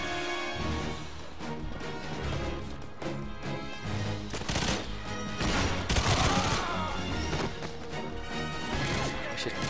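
Gunfire in the GoldenEye 007 Reloaded game on the Station level, a dense run of rapid, loud shots and crashing impacts over game music, with a voice talking now and then.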